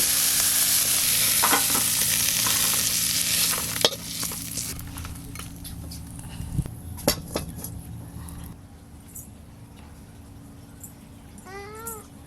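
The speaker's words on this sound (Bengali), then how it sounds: "সব চিংড়ি মাছ ভালো করে ভাজা হয়ে গেল, এবার ঢেলে নেব" Shrimp fry in hot oil in a wok, a steady loud sizzle with scraping stirs and a few clanks of the utensil against the pan, fading lower toward the end, where a brief cat meow is heard.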